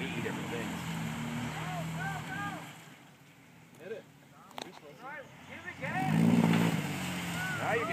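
An off-road vehicle engine revs and strains at an ORV park in Genesee County, Michigan, rising and falling in pitch, dropping for a moment and then surging loudly, with people shouting over it.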